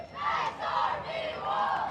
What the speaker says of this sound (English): Hearing the SRV Wolves cheer.